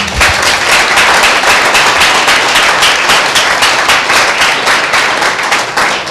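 A church congregation at a Sunday service bursts into loud, sustained applause, dense rapid clapping from many hands close and full for several seconds, with no talk over it.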